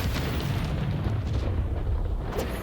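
A fiery blast from the Confringo spell in Hogwarts Legacy, heard as a brief low rumbling boom that swells and fades at moderate loudness, with no voice over it.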